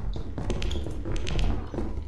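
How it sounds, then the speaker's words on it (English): Footsteps in the video game Lethal Company, a run of close, loud taps and thuds in an uneven walking rhythm, with no talk. "Our footsteps are too loud in here."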